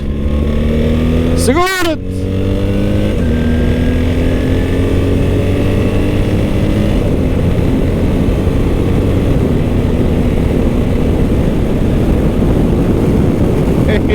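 A 2025 BMW R1300 GS Adventure motorcycle revs and accelerates through quick-shift gear changes, engine note climbing and stepping with each shift under heavy wind rush, while the rider calls out briefly.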